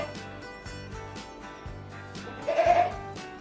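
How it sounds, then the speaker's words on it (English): A goat bleats in a short wavering call near the end, heard over a steady looping musical backing that runs throughout. "Was that a goat, a sheep, or a pig? It was a goat."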